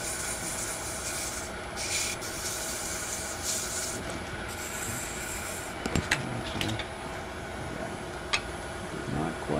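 Sandpaper rubs against wood spinning on a small spindle lathe, giving a continuous close hiss and whir with a faint motor hum underneath and a few light knocks near the end.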